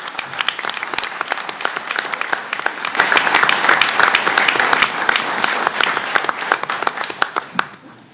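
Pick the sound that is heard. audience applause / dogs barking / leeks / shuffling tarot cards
audience applause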